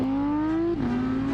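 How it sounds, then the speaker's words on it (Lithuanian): A screaming Audi naturally aspirated V10 holds a loud, steady rising note, then drops briefly at a gear change before pulling again, close and alone. "Tas V10 variklis, rėkiantis V10 variklis"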